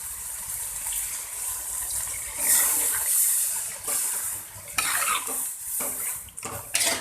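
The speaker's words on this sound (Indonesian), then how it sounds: "Lalu saya tambahkan air." Water is poured into a cooking pot for Betawi lontong sayur, a gushing splash over metal with clinks of a spoon and stirring, loud and close, stopping and starting in short bursts.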